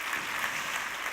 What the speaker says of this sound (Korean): 영광의 박수 한번 올려드리겠습니다